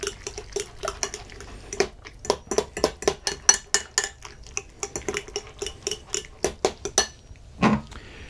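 Spoon stirring crème fraîche in a bowl with rhythmic clinks and scrapes against the dish, steady and close, with no talking.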